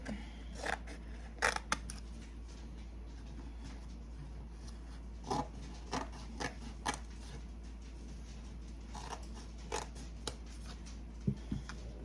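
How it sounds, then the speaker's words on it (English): Scissors snipping through decorative material for a wedding or Mother's Day centerpiece: a few scattered, sharp cuts in short bursts over a steady low hum, fairly quiet and close, with no one talking. "And then I'm gonna just cut it."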